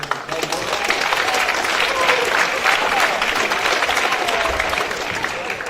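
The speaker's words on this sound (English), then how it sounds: "if y'all would please give your attention and a round of applause for Mr. Clay." Audience applauding steadily at a school chapel service, a dense, sustained clapping that holds at full strength for several seconds and only starts to thin near the end.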